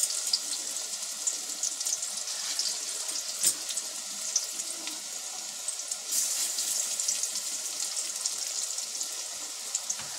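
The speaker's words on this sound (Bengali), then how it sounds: "তাই এটাও আমি উল্টে পাল্টে ভেজে নেব" Karmi shak and egg fritters fry in a pan with a steady, bright sizzling hiss that runs unbroken throughout, with a few faint clicks and no talking.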